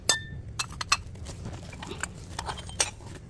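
Wine glasses found in a dumpster in Korea clink and tap against each other as they are handled, a string of sharp, bright, close knocks at an uneven pace over low outdoor rumble.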